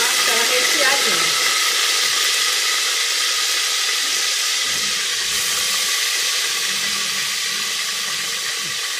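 Stuffed beef tongue fries in hot oil, giving a loud, steady sizzle and hiss that continues for several seconds, close by and alone, easing off only slightly toward the end.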